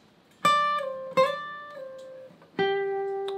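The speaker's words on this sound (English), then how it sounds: "So, first reverse slide and then slide point to reverse slide." Guitar picking a few separate notes with a reverse slide and a forward slide from a song, each pluck sharp and close, then gliding in pitch before fading, with no talking.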